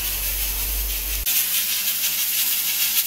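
Pancake batter of a meat pancake recipe sizzling in a frying pan, a steady close hiss that turns brighter and louder partway through, with no talk.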